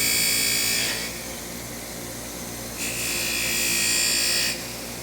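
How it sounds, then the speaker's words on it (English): A screw is pressed against a spinning polishing wheel in a workshop, a motor hum beneath two bursts of bright grinding hiss, one brief and one about two seconds long, close and fairly loud with no speech. "Put it on the polishing wheel."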